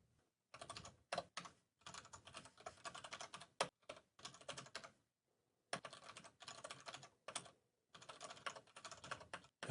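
Quick bursts of clicky keystrokes on a computer keyboard, typed in short irregular runs separated by brief pauses, close and fairly quiet with no voices.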